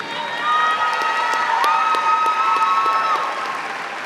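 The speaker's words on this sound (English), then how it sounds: "So please, one more applause for Deanna and for Eve." A crowd at a journalism college commencement applauds steadily, with clapping and some cheering blending with a held sustained tone in the background.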